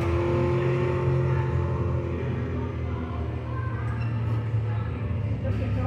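Race car engine in a sim racing video game, accelerating and holding a steady high drone at constant volume, with voices talking over it.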